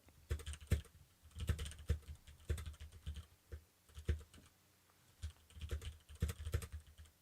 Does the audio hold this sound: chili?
no